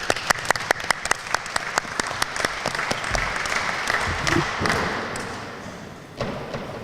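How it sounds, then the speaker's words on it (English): Graduation audience at a 2011 college ceremony applauds in a hall, opening with a few sharp, separate claps that swell into dense, steady applause and then fade toward the end. "So again, thank you very much and a big round of applause."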